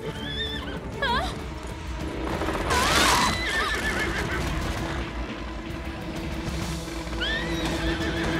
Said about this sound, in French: Oh, Cinder, essaie de l'enlever en tapant des sabots.